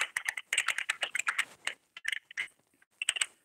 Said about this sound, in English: Yeah, you keep typing your little notes.